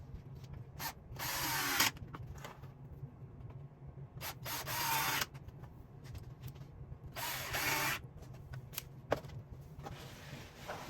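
Several short bursts of a power drill boring into wood for a beehive solid bottom board, each a few seconds long, close by over a steady low hum, with clicks between.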